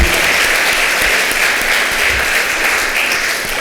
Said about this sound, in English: Let's give a big round of applause for our panel here.